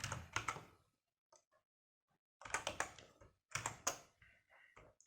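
Typing on a computer keyboard while writing C code, with quick clusters of crisp key clicks separated by short pauses, close and fairly quiet with no talking.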